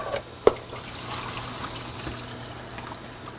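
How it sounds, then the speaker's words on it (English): Water runs into a film developing tank during a home E6 slide-film wash, a close splashing pour with a brief sharp clunk near the start, then a steady trickling flow. "I'm going to go ahead and get my cap on and start filling my tank."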